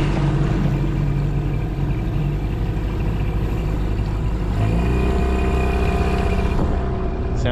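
An old Mercury outboard motor runs on a stillwater lake in the evening, a steady, close, sputtering low drone that continues throughout with no pauses.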